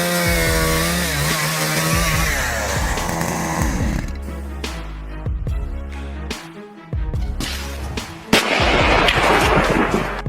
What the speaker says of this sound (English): This wood-splitting drill, with its unique design, is capable of handling large, tough logs